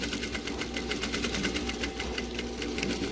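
A sewing machine runs steadily, stitching a circular fabric face mask, with a fast even needle rhythm and a motor hum that stays constant throughout, close and fairly quiet.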